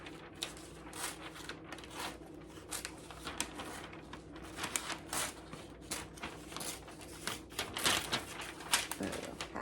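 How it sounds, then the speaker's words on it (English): Packing paper is cut in half with scissors, making a quick run of crisp snips and crinkly rustles, fairly close and faint, with light handling noise throughout. "So let me get some paper real quick. You know, I'm going to cut this in half"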